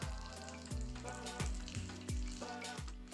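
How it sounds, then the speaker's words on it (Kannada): Mustard seeds, cut dried red chillies and curry leaves tempering in hot oil for tomato chutney, a close, dense sizzle with repeated crackling spurts every half second or so and no voices. "ಸ್ವಲ್ಪ ಕರಿಬೇವಿನ ಸೊಪ್ಪು ಹಾಕ್ಕೊಂಡು ಇದನ್ನು ಫ್ರೈ ಮಾಡ್ಕೋಬೇಕು"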